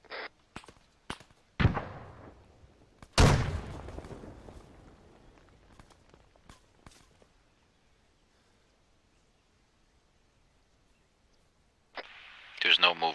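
A fragmentation grenade goes off during military detachment training, a sharp loud blast followed by a long decaying rumble and scattered cracks, with voices in the background.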